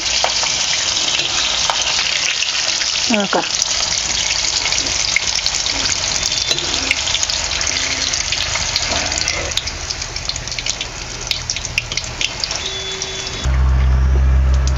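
Green chillies deep-frying in hot oil for bhaji, a loud continuous hiss and sizzle that holds steady throughout, with a deeper rumble taking over at the end.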